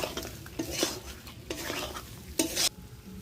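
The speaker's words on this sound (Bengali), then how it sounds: "গরম মশলা দিয়ে দিলাম, একটু কষিয়ে নেব।" Mutton kosha with garam masala and potatoes sautéing in a pan, with a few brisk stirring scrapes and clinks over a faint sizzle, close and fairly quiet.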